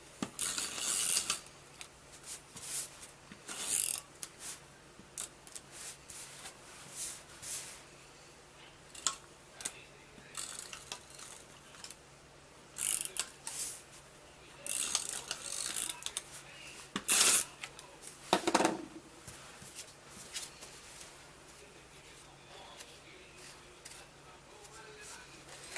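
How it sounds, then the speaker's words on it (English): Tape runner drawn around the edges of a handmade card, giving short, quiet bursts of scratchy rasping and clicking separated by pauses, close up in a quiet room. "So I'm going to take a tape runner and go around the edges."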